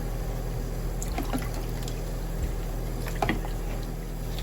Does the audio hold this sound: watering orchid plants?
yes